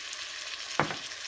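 Garlic paste fries with onions in a pan, a soft continuous sizzle with one brief louder scrape or stir partway through; no one speaks.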